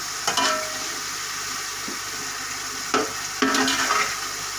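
Minced beef keema frying in a pot, stirred in a few distinct scraping bursts over a steady close sizzle, with no talking.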